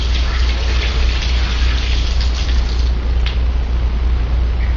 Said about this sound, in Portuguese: você vem embaixo da torneira, dá uma lavada